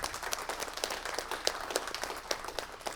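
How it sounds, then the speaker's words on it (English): Audience applause at a council meeting, a steady crowd of hands clapping close and dense for the full stretch, with no talk over it. "Give them a round of applause, please."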